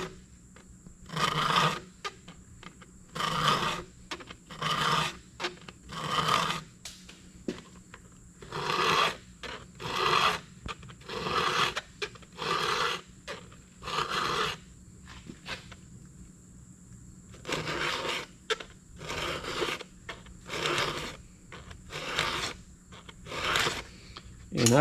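Square file sharpening a chainsaw chain, cutting into the chrome of each tooth: bursts of close, rasping strokes in steady groups of about five, with short pauses between sets.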